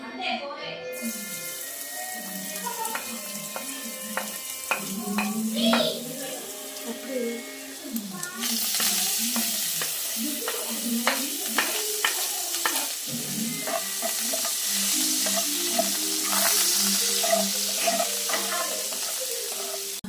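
Spices and ginger are stirred and fried in a pan while making pasta, producing a close sizzle that grows louder partway through, with frequent scraping and clinking of a utensil and a voice at times.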